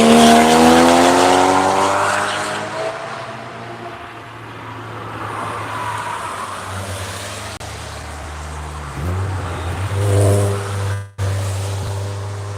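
A BMW race car, apparently a GT-class machine, drives hard in a racing video game, its engine droning loudly and shifting in pitch through a technical corner, with brief tire squeal and a sudden cut near the end.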